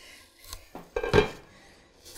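Lid of a Wolfgang Puck chafing dish being handled, with a few close metallic clanks and a brighter clattering knock in the middle, fading to quiet scraping, with no talking.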